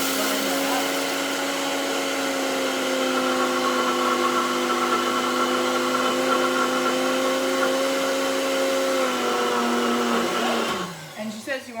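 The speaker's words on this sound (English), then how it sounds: "I'm just going to pop this in the NutriBullet for like 30 seconds" A NutriBullet blender grinds dry ingredients for PK bread with a loud, steady motor whine that runs continuously for about ten seconds, then cuts off abruptly into a brief rattle as it stops.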